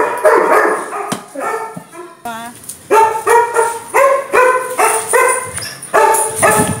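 A dog barks in a string of loud, close, rhythmic yaps mixed with a few whimpers, repeating steadily about once a second.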